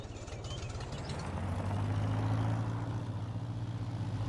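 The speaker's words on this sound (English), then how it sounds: "Since we left the harvester idling" A combine harvester idles in a farming video game, a steady low engine rumble with a faint knock that swells slightly midway and holds on alone without talk.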